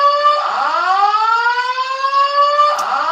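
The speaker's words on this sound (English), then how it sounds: "Fire alarm's going off." Fire alarm going off indoors, a loud wailing electronic tone that sweeps up in pitch, holds, and restarts, rich in harmonics and heard close and alone.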